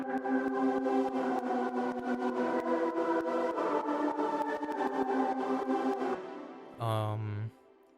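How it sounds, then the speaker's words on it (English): Layered Frenchcore synth pads in Ableton sustain as a dense chord for about six seconds, steady and loud with a repeating pulse. After a brief drop a short tonal burst follows, then silence. "So all my pads together sound like this."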